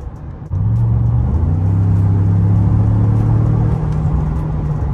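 A Ford F-150 pickup truck's engine starts droning loudly after a brief moment, holding a steady low rumble with slight rises in pitch as it drives.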